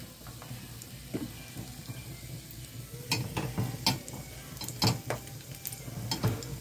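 Chicken coxinhas frying in hot oil give a soft, steady sizzle, with sharp clicks and clatters of utensils against a pan.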